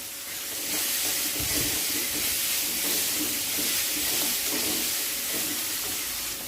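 Sliced onions fry in a pan with salt and turmeric, giving a steady, close sizzle and hiss that runs throughout with faint stirring scrapes and no talk.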